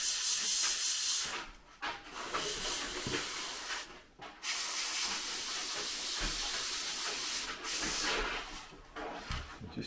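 An airbrush sprays paint onto a HobbyBoss Nagmachon model vehicle in steady airy hissing bursts, close and continuous, with a few short pauses between passes.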